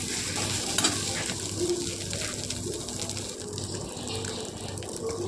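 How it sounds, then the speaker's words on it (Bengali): Fish curry paste stirred in hot oil in a wok, with a soft continuous sizzle and scraping. Quiet, close-up and steady throughout. "এই যে এটাকে ভালো করে তেলের মধ্যে নেড়ে নিচ্ছি"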